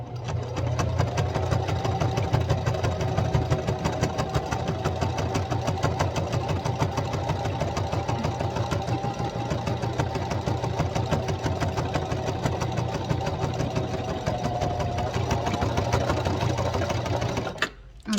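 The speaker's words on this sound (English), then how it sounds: "Now I'm going over where the initial stitching took place." Sewing machine stitching fabric for a DIY sugar glider tunnel, running steadily and close for the whole stretch with a constant mechanical whir, then stopping abruptly at the very end.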